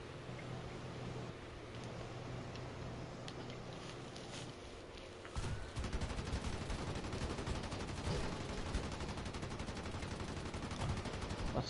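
Aircraft guns fire in War Thunder, with a BE-6 in play: long bursts of rapid gunfire, quieter at first, then louder and denser from the midpoint, continuing in sustained volleys.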